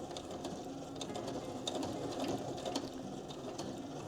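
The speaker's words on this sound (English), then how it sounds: "So I'm going to keep sewing so that everything's nice and neat." A sewing machine runs steadily up close, stitching the fabric pages of a quiet book together. It makes a soft, even mechanical chatter with faint ticking, and no voices are heard.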